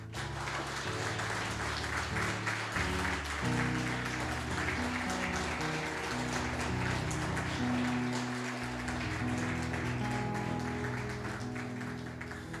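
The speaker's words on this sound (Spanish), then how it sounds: "denle un aplauso a Dios" Sustained applause from a church congregation, steady and dense throughout, with music playing underneath.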